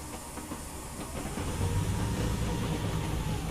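In Train Simulator 2021 on the Fife Circle route, a steam excursion train rumbles past with a low hissing rush and faint rail clatter, swelling slightly louder partway through, no voices heard.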